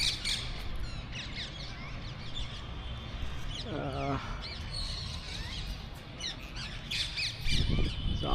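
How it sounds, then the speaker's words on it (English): Parrots and pigeons gathered on a neighbouring rooftop at evening, giving scattered squawks and chirps at a distance under steady outdoor background noise, with a brief vocal hesitation from someone nearby. "हमारे पास में जो छत है उस पे इतने सारे जो बर्ड्स आए हैं, स्पेशली पैरट्स एंड pigeons."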